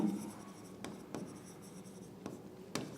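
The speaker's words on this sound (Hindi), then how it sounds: "तो हम क्या करेंगे, हम लिखेंगे टू चिंटू" Handwriting with a pen on paper during an accounting lesson: faint, scratchy strokes in a few short bursts, close to the listener, with no talking.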